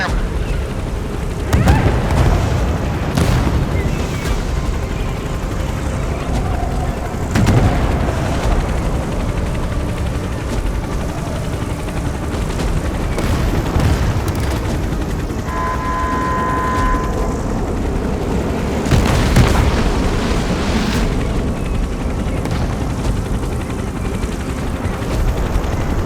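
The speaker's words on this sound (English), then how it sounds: "Our ship is under enemy attack" Deep booms and blasts of naval gunfire and explosions from the warship battle game Force of Warships, recurring every few seconds over a constant roaring battle din, with a short electronic alert tone partway through.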